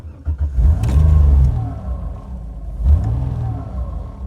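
A Lancia Stratos Lister Bell STR sports car engine cranks and fires up with a low rumble, then revs twice in short bursts before settling to an idle.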